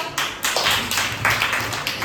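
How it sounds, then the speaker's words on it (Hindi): Children clap together in a school classroom, a short burst of uneven, closely spaced claps, fairly near and moderately loud. "सबके बीच मिल बांट के खाते हैं। तालियां बजाओ।"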